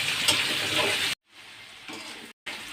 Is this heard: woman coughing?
no